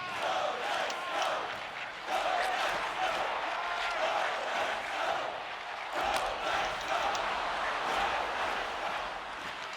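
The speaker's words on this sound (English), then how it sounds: "Now we hear a "Go Knights, go" chant." An arena crowd in the NHL 25 hockey video game chants and roars steadily for the Vegas Golden Knights, a dense rhythmic wall of voices throughout.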